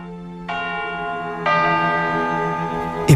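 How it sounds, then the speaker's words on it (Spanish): Church bells ring out loud and close, a first stroke followed by a second heavier one whose rich overtones hang and ring on, with no talking over them. "Estas campanas que estamos ahora mismo oyendo"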